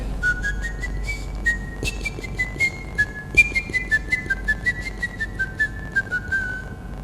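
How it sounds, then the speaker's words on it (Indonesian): A person whistles a slow melody alone, clear and close, the notes gliding smoothly between pitches with soft breathy onsets in a quiet room. "Suaranya dari siulan saya."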